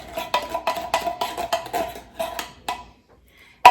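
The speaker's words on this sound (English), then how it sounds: "And you stir that in, get it all mixed in there." A spoon stirs cream of mushroom soup into a hot melted cheese and Rotel mixture in a pot, making a steady rhythm of soft scraping clinks that fades out, followed by one sharp knock at the end.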